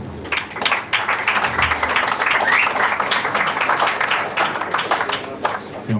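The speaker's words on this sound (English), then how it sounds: "Je vous prie de bien applaudir pour Emese Muehl." An audience at a swing jazz concert applauds a singer, steady dense clapping at moderate loudness lasting the whole stretch, with no voices standing out.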